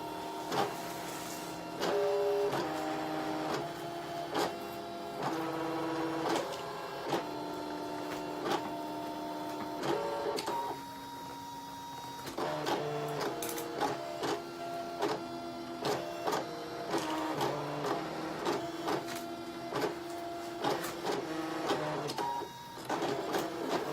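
A Brother ScanNCut electronic craft cutting machine runs for a long stretch, its motor whining and changing pitch in short bursts with clicks between passes.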